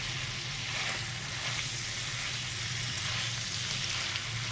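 Beef kaleji cooking on a tawa with green chilies and black pepper, a dense steady sizzle of frying close up as it is stirred, with no talking.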